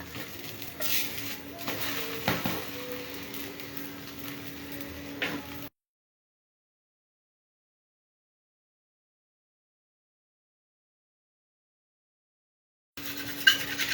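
Dosa batter cooks on a hot griddle with a soft, constant sizzle and a few light scraping and utensil clinks. The sound stops for several seconds of silence, then returns briefly near the end.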